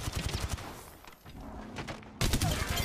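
Gunfire from an enemy team in an Apex Legends match, bursts of rapid shots that thin out into a quieter stretch before a loud close volley resumes, with a voice talking over part of it.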